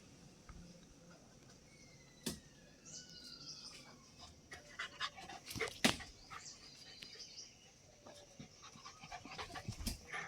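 A dog pants in quick, rhythmic breaths at close range, with a few sharp clatters and faint background activity, in a home setting.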